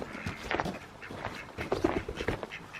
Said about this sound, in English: It was a duck